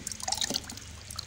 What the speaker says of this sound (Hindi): ओहो थोड़ा पानी चारपाई के ऊपर सारा गिर गया